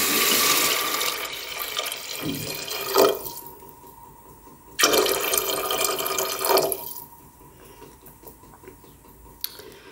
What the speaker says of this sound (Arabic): نمرقها بالماء يكون سخون ماشي بارد